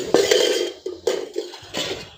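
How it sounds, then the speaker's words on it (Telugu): Pots and dishes being washed at a kitchen sink, with three or four distinct clanks of metal and crockery knocking together, close and fairly loud, separated by short pauses. "ఈ గిన్నెలన్నీ సింకులు అయితే ఉన్నాయి, అన్నీ కూడా కడగాలి"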